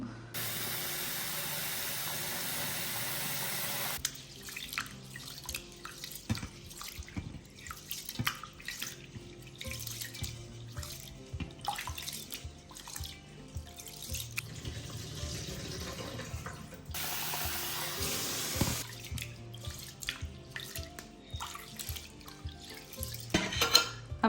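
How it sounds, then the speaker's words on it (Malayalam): Rice being washed by hand in water in a vessel, with continuous sloshing, dripping and splashing, a brief steady pour or run of water early on, and scattered knocks of the pot, all close and moderately loud. "അങ്ങനെ ഞാൻ അരി മൂന്നാല് പ്രാവശ്യം കഴുകി"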